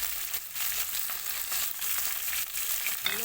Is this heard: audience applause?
no